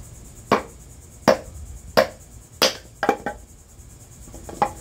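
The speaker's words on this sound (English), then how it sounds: "this is why I made this wooden mallet, because I didn't want to be banging on the knife" Wooden mallet striking the spine of a knife to split wood, five or six sharp separate knocks spaced about a second apart, the last few quicker and lighter.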